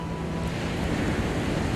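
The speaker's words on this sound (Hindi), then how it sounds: "जो पानी की लहरें चट्टानों में टकरा रही है" Ocean waves crash against rocks below Uluwatu Temple in Bali, a steady broad roar of surf mixed with wind noise over the microphone, continuous and moderately loud without distinct breaks.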